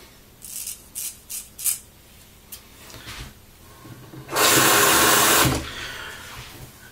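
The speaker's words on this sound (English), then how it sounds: "It's not absolutely dead critical that you keep rinsing your blade as much as you're hearing me do" A razor blade is rinsed in water during a shave. A few light clicks and taps come first, then a loud, steady rush of running water for about a second before it stops.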